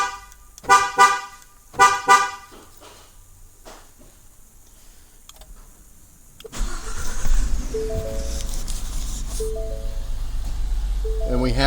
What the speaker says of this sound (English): And we have our vehicle started and running.